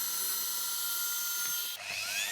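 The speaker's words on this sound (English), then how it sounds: "And gently just putting my drill bit in, taking a little bit away at a time" A small drill bit bores slowly into a hollow action figure head, a steady high-pitched whine that holds and then shifts pitch near the end, close and loud.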